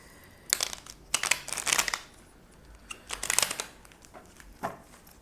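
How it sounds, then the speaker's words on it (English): Tarot cards shuffled by hand in several quick riffling bursts, crisp papery flutters with short pauses between them, close and fairly quiet. "Maybe one more shuffle."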